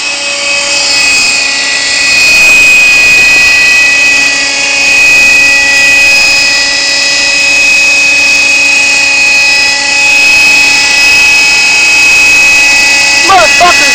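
A Kyosho Nexas 30 RC helicopter flies at an outdoor field, its small engine producing a loud, sustained high-pitched whine with steady tonal drones that swell and fade slightly, while people talk nearby.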